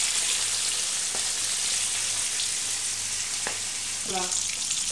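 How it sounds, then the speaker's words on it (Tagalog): Black pomfret (labahita) frying in a pan gives a steady, broadband sizzle that never lets up, with a few brief faint clicks and a short voice-like sound near the end. "Malapit na maluto yung aking black pomfret, labahita."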